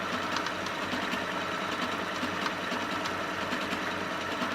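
A Singer 8500Q sewing machine runs a steady, fast mechanical whir of stitching, a continuous even drone with fine regular ticking, close and moderately quiet, with no talk.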